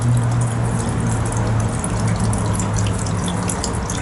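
Water runs steadily from a kitchen tap in a continuous close rushing stream with no talk.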